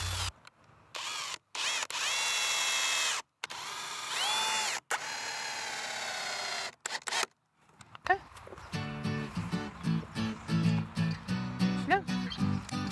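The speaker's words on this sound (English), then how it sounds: "we're just gonna mark our holes and I'll pre-drill them" A power drill whines in several sustained bursts, pre-drilling holes in wood for a fence, pausing between holes, followed by clattering and knocking sounds of handling tools and wood.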